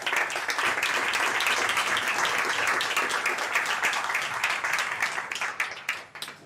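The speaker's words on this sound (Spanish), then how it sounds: "Os pido otro fuerte aplauso para ellos." A crowd at a youth event in Extremadura gives a strong round of applause, dense and loud for about five seconds before thinning out to a few last claps.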